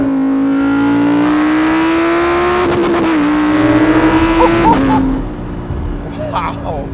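The 5.2-litre normally aspirated V10 of a 2018 Lamborghini Huracan Performante Spyder revs hard, its pitch climbing steadily, then blips and drops back to a settling idle. The exhaust is loud and close.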